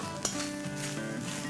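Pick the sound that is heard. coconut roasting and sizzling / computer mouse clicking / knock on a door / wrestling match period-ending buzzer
coconut roasting and sizzling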